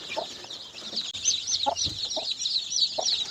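Young chicks peeping in a steady stream of high, thin chirps, with a few lower soft calls mixed in, fairly close and with no one talking.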